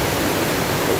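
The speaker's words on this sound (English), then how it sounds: "There's a cave, so the cave's in there, and the water rushes out" Water gushing from a cave at the intermittent Fontestorbes spring in a forest, a steady broadband roar of rushing water, loud and continuous with no voices.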